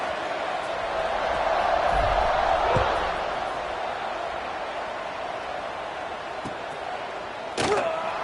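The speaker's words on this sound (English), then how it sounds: "this crowd is buzzing after that last score" A college football (NCAA) stadium crowd keeps up a steady, loud buzzing roar after a score as the kickoff goes away, with a brief thud near the end.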